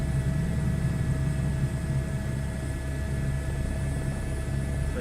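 An H125 helicopter flies in a flight simulator with a steady, droning rotor and engine hum and a faint constant whine, unbroken and even throughout.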